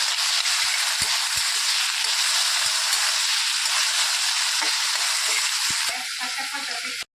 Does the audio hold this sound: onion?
yes